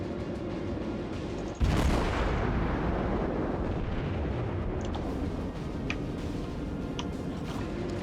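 Main guns of a warship firing in World of Warships, one loud booming salvo followed by a long rolling rumble and a few faint clicks as the sound decays.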